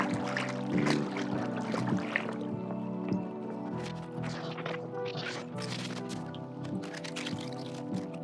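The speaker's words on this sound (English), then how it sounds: "actually has a walking in water effect sound" Footsteps splashing through water in the video game Paradise Killer, a steady wet sloshing under continuous layered game music.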